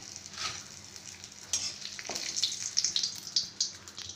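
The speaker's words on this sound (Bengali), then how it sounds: "শুকনো লঙ্কা তেজপাতাটা ভাজা ভাজা হয়ে গেলে" Three dried red chillies and two bay leaves fry in a karahi of oil, giving a close, steady sizzle with crackling bursts that grow louder partway through.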